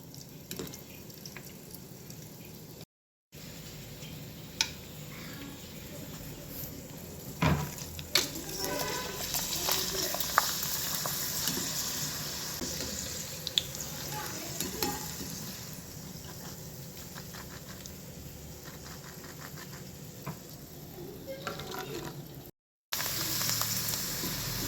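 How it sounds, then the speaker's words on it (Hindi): Ready-made papad frying in hot oil in a home kitchen, giving a steady, soft sizzling crackle with scattered pops and drips that runs for a long stretch without talk, broken by two brief dropouts. "फ्रेंड्स ये रेडीमेड पापड़ है, सिर्फ हम इसे घर पे तल रहे हैं"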